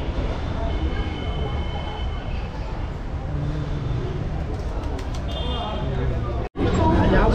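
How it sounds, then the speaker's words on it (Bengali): A local commuter train pulls out of Dum Dum station on the Kolkata circular rail line, a steady loud rumble of wheels and carriage noise with faint chatter around, briefly cut by a short dropout near the end. "ছাড়লো আমাদের দমদম থেকে ট্রেন"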